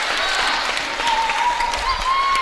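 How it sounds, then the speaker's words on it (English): A crowd at a high school varsity volleyball game between Wapahani and Cowan cheers and applauds loudly and continuously in a gym, with dense clapping and whistles throughout. "this actually might be one of the more intense ball games as far as crowd noise that we've had so far this year"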